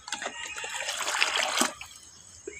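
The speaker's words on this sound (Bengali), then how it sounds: "আর এই 1 বালতি পানি দিতে হবো," A bucket of water splashes into a home fish tank in one steady, gushing pour lasting under two seconds before it tapers off.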